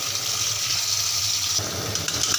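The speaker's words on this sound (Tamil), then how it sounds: "தண்ணி ஊற்றி கழுவிட்டு எடுத்து வச்சுக்கலாம்" Cold water poured over boiled pasta in a colander to rinse it, a steady broadband gush and splash running throughout at close range, with no voices.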